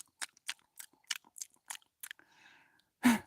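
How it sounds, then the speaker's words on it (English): A pet chewing on its own feet gives a quick run of soft, close crunching bites in an irregular rhythm, then a faint scratchy rustle and one louder final chomp. "she chews on her own feet"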